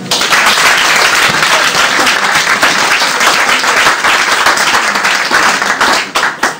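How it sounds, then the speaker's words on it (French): A church congregation breaks into loud, dense applause, many hands clapping together in a sustained close wash of sound that holds steady for several seconds before tapering slightly at the end. "On peut acclamer le Seigneur."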